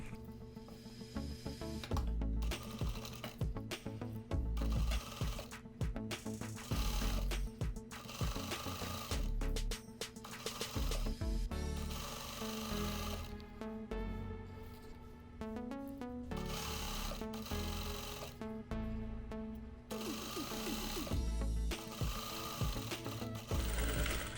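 A domestic sewing machine runs through a folded seam on a kimono, whirring in rapid mechanical stitching bursts separated by brief stops, close and fairly quiet.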